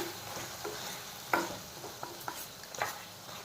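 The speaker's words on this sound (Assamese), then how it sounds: "তলত লাগি যাব পাৰে, সেইকাৰণে ঘনাই ঘনাই লৰাই দিছোঁ।" Pieces of local chicken frying in their own oil crackle softly while a utensil scrapes and knocks against the pan in several irregular stirs, close but fairly quiet, with no voices.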